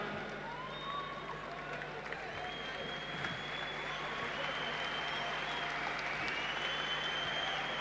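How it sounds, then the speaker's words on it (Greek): A crowd at a basketball event in Athens applauds steadily throughout, a dense continuous wash of clapping with some cheering and whistles mixed in. "Με πολύ χειροκρότημα."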